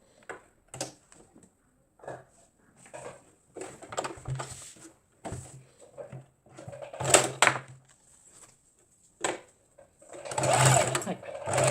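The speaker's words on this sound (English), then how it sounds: "we're going to take it to the sewing machine and stitch from here to here" A sewing machine stitches fabric for a racerback tank top in short stop-start runs of rapid mechanical whirring, ending in a longer, louder burst close by.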